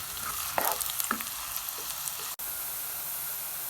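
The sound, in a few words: chopped onion frying in hot oil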